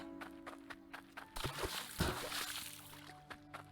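A watering can pours over plants in the mining and farming video game Hydroneer, a short splashing slosh of water between light footstep-like ticks and a low game hum.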